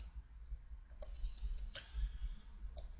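Computer mouse clicks while working in a spreadsheet: a few sharp, light clicks spaced irregularly over a low background hum, fairly close and quiet, with no talking.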